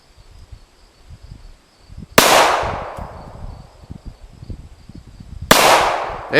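Two sharp, loud gunshots from an AR-15 or 1911 pistol at a shooting range, several seconds apart, each with a crisp crack and a ringing decay, and quiet rustling in between.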